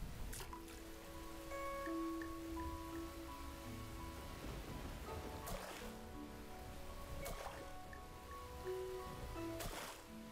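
Steady rain falls in the Chinese spirit-farming game Immortal Life, a continuous dense hiss with game music tones layered over it and a few soft bursts, with no talking.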